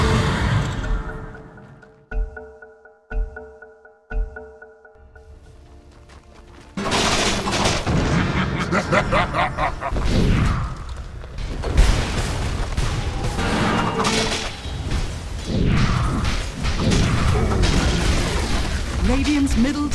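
Dota 2 match audio: a few sharp hits over quiet tones, then a loud, dense run of combat blasts, bursts and crashing impacts as a mid tower is attacked and destroyed, with game announcer speech mixed in.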